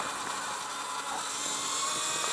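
A Light Bee electric supermoto motorcycle on a race track gives off a high, whining electric motor drone with a rushing wind-like hiss, steady and fairly loud throughout, with no talking.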